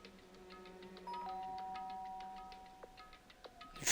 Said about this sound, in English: Byakuya stood in front of her door and making a sound and pressed the doorbell.